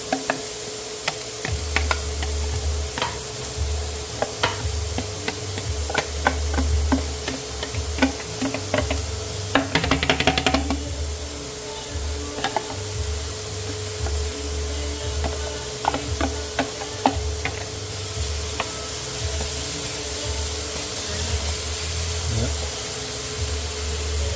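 Vegetables sizzling in a pan of extra virgin olive oil, a steady low frying hiss with scattered ticks and scrapes of stirring throughout, no talking.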